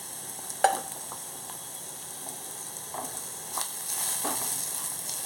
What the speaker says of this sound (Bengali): ভাজা ভাজা হয়ে তেল ছাড়তে শুরু করে দিয়েছে